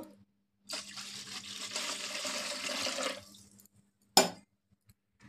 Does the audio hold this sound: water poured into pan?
yes